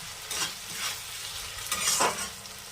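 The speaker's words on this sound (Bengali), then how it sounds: "এবার নেড়ে নেব ভালোভাবে।" Garlic, ginger and cumin paste being stirred in a hot pan, continuous close sizzling with a few swishing scrapes of the spoon, no talking.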